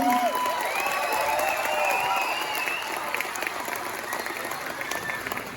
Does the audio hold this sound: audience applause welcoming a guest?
yes